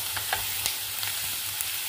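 Spices including garam masala frying and being stirred in a pan for dal makhani, a soft continuous sizzle with light spoon scrapes and taps, close and fairly quiet, without speech.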